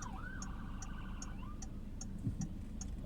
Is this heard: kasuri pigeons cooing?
no